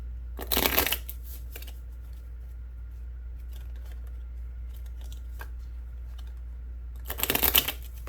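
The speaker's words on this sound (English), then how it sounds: "pull some additional cards for you from the Soulmate Oracle here" Oracle cards being shuffled: two short bursts of riffling, one at the start and one near the end, close and fairly soft, with quiet room noise between.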